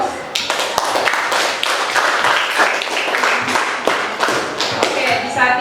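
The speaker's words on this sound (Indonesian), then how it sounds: "Kita berikan aplaus." A classroom group claps in applause, a dense, loud patter of hands with scattered thumps and taps, and voices can be heard mixed in with the clapping.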